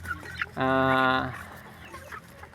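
A free-range village laying hen lets out one loud, drawn-out cackle up close, followed by softer scattered clucks and background noise.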